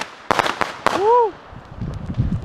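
A few sharp pops from Black Cat and World Class fireworks at a July 4th backyard show, then a short whistle and soft crackling fading away, with a voice cheering briefly under them.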